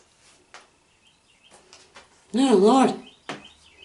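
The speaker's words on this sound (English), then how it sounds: "You hear the birds?" Birds chirp outside in faint, scattered high tweets, with a louder call in the middle, while a person speaks briefly nearby.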